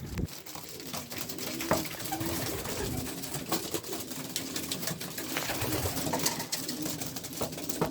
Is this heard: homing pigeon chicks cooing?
yes